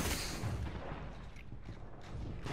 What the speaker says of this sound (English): shotgun one time